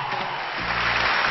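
Dense, steady clapping from an audience rewarding a coin magic trick, filling the short stretch without a break and swelling slightly toward the end.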